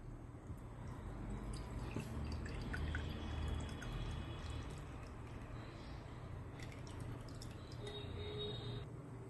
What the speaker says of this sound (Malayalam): ഇനി ഇത് ഒരു അരിപ്പയിലൂടെ അരിച്ച് ഒരു ബൗളിലേക്ക് ഒഴിക്കാം.